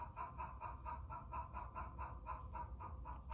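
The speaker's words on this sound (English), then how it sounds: "I really wish the chickens would stop screaming" Chickens squawk and cluck in a quick, repeated rhythm, fairly faint and a little distant, with no talking.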